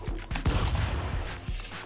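A hand cannon fires in the stick-figure fighting game Stick Fight, with a burst of heavy, booming shots in quick succession over a dense, loud game soundscape.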